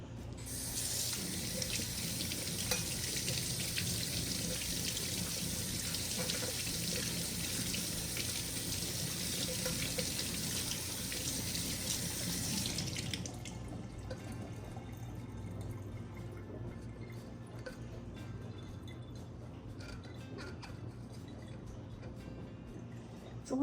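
Tap water runs into a sink over printed stickers, a loud steady hiss that cuts off about halfway, leaving quieter dripping and faint room noise.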